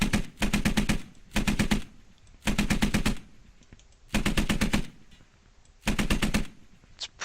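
A Browning machine gun fires from a turret in the game Squad, on the US Army side: five loud, close bursts of rapid shots, each lasting about half a second to a second, separated by short quiet gaps.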